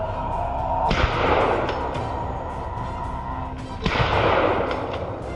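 Gunshots fired at a herd of wild boar in a forest, two loud bursts with long, rushing reverberant tails rolling out after each one.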